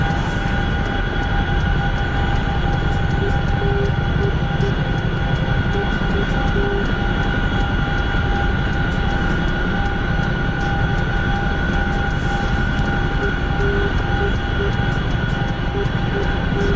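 Chinook tandem-rotor helicopter in a flight video game, a steady loud rotor and engine drone with constant tonal hums, sustained without break.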